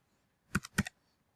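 A value being typed on a computer keyboard in a quiet room, two quick pairs of close, crisp key clicks in rapid succession, then silence.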